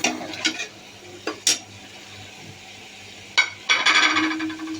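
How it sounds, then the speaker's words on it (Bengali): Pangas fish pieces drop one by one into spiced oil in a pan, giving sharp clinks and short sizzling bursts with quiet gaps, then a louder, steadier sizzle toward the end. "এখন এগুলো একটু ভেজে নেব ভালো করে"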